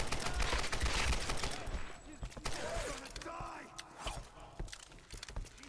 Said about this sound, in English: Damn straight, I got a machine gun.